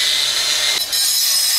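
Steady high-pitched grinding whine of a power tool cutting brick for a mortar garden pond wall, loud and close, with a brief dip in pitch and level midway before resuming.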